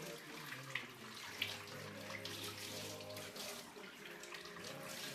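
Running water rinses milk bottling equipment at a sink, a steady broadband splashing flow lasting throughout with a few small clinks, close and fairly loud.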